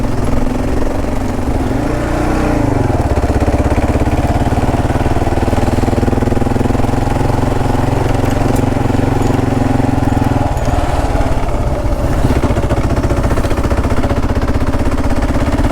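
A Kawasaki KLR motorcycle runs steadily along a dirt backcountry trail, its single-cylinder engine droning loud and close throughout. The pitch lifts and falls slightly with throttle changes, and wind rushes over the microphone.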